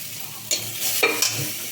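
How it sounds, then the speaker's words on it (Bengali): Chopped onions go into a pan with ginger and garlic; a soft sizzle is broken by a few quick stirring scrapes over less than two seconds. "হুম এবার পেঁয়াজটা দিয়ে দিলাম"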